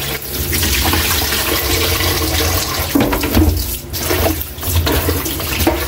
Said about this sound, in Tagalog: Hugasan muna natin ang ating sardines.